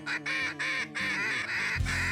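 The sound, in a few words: duck call imitating a mallard duck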